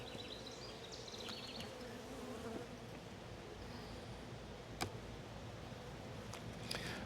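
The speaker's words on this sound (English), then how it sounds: "Nice working these bees slow so they don't get angry." Bees hum in a continuous, fairly faint drone while a beehive is opened and its frames worked, with a few small clicks and knocks from handling and no talking.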